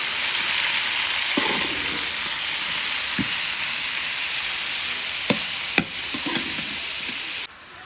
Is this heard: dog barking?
no